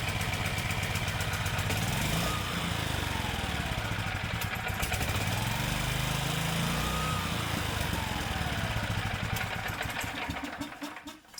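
A small gasoline generator engine runs steadily on full choke, loud and close with a rough, rapid firing throb that continues throughout before cutting out near the end; there is no speech.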